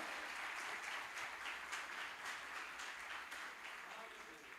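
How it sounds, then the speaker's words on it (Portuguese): A church congregation claps and applauds steadily during a sermon, heard from a distance with a voice mixed in, easing off slightly toward the end. "Eu posso ouvir palmas para Jesus?"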